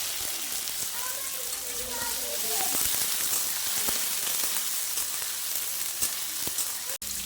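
Potato, eggplant and chilli fry in oil with dried red chilli, five-spice and bay leaf, crackling and sizzling steadily up close with scattered sharp pops, while a voice speaks quietly beneath.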